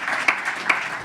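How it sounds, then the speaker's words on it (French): Audience applause at an evening tech event, a brief burst of many hands clapping at moderate loudness, with a couple of sharper claps standing out. "Vous méritez en effet nos applaudissements, vos applaudissements"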